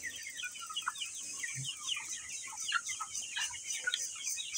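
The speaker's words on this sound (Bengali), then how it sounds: "এই মুরগিগুলা লালন পালন করতেছি আমি।" Broiler chickens on a poultry farm keep up a dense, continuous chorus of overlapping clucks and soft chatter, fairly faint and spread evenly throughout, with no voices.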